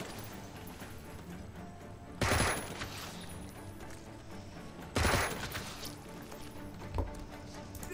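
Gunfire in the tactical game Jagged Alliance 3 during jungle combat comes as two loud bursts a few seconds apart, then a shorter shot, over a steady low ambient bed.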